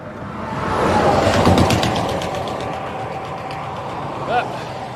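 A truck drives past on a road, its engine and tire noise swelling to a peak then fading, heard from close by with wind and a brief squeak near the end.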